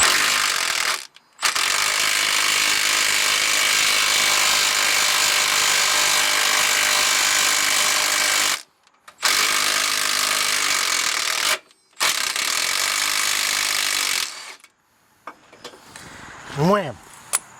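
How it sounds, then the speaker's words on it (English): Impact gun racked back and forth on a rusty rear sway bar link of a Honda Element: long, loud continuous hammering bursts broken by brief pauses, then a sharp tone that sweeps up at the end. "I was racking the impact gun back and forth"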